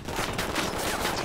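Dense, continuous gunfire from Ghost Recon Wildlands, a steady fusillade of overlapping shots and bursts filling the whole moment at close range with no pauses.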